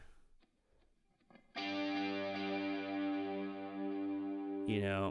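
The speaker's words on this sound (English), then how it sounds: "I added for this chorus was a guitar stab." A single distorted electric guitar chord stab rings out and sustains with delay, after quiet faint clicks, then a short sliding note at the end.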